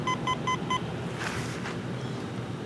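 A metal detector sounds four short, evenly spaced electronic beeps as its coil sweeps over a buried target, likely a flattened nickel, then quieter outdoor background follows, with no speech.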